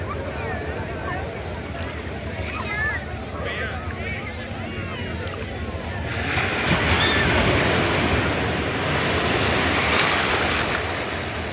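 Ocean waves break continuously on the beach at Cox's Bazar, with wind buffeting the microphone and the surf swelling louder midway through.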